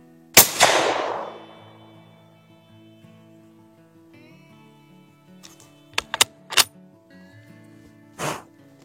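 Rifle shots at a shooting range: one loud, sharp report with a long ringing decay opens, then after a quiet stretch a quick cluster of three crisp cracks and a final shot near the end, all close and without talk.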